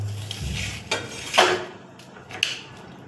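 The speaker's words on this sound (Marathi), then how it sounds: "हे बघा, टोमॅटो, हिरवी मिरची, कांदा कापून घेऊया." A knife chopping tomato, green chilli and onion on a board: a handful of light, scattered knocks and scrapes, close and quiet, with no speech.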